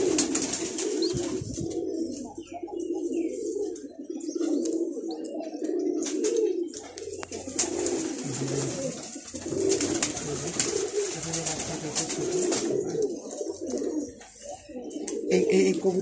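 Shirazi pigeons coo in low, repeated throaty calls close by, with soft chirps and someone speaking now and then over the flock.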